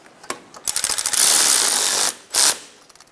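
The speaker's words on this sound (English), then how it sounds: "Snug down your four wheel bearing bolts." A ratchet snugging the four wheel bearing bolts on a 2012-2016 Subaru Impreza steering knuckle: quick close clicking bursts, then a sustained ratcheting buzz and a final short burst.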